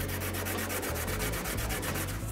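A Scotch-Brite pad scrubs yellow paint off the body of a campervan with quick, rhythmic back-and-forth strokes. The abrasive rubbing is close and steady, with each stroke clearly separate.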